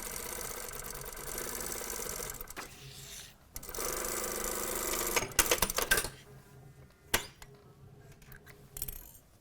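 A sewing machine stitches an exposed zipper pocket on a vest in quick whirring bursts separated by pauses, with small clicks and taps between runs.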